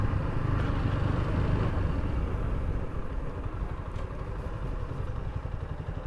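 A motorbike engine running steadily before parking outside a government college, a close, continuous low rumble with clattering texture and no talk.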